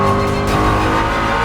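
A Ford Mustang GTD race car roars loudly and close on the track, its dense engine note holding steady throughout with a hint of tyre noise.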